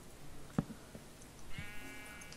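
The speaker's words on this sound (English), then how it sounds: "Trap the fucking sheep under the house." A sheep in a Minecraft-style video game gives one faint, wavering bleat near the end, preceded by a soft thump against quiet background noise.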